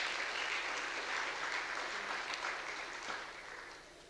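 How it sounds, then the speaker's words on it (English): A conference audience at a media awards ceremony applauding the communication team, a dense wash of clapping that holds steady and then fades slightly at the end. "Please clap for them"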